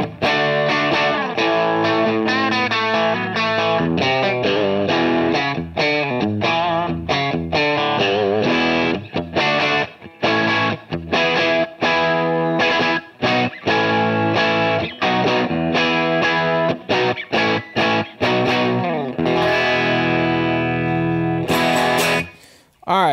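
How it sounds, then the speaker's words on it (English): An electric guitar played through a tube amp driven into power tube distortion, gritty sustained chords and riffs loud and close, pausing briefly between phrases with a short burst of talk near the end. "you can hear there is actually power tube distortion there"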